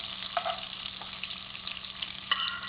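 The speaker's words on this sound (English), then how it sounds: "I'm adding 3-4 green chilies here." Green chilies fry in hot oil in a pan for chicken biryani, with a steady close sizzle and a few light clinks of a utensil, and no talking.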